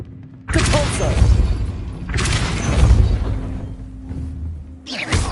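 A Depulso spell blasts out in Hogwarts Legacy, two long booming whooshes with rumbling thuds that each swell and fade over about two seconds, followed by a third sharp burst at the end.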